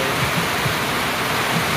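The roaring Sunkosi river rushes past as a steady, dense, close wash of water noise that never breaks.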